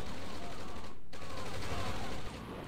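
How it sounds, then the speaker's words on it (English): Yak fighter aircraft strafe in a video game, with dense, rapid bursts of machine-gun fire crackling continuously, briefly dropping out for an instant midway. "these yaks going to have an excellent strafe"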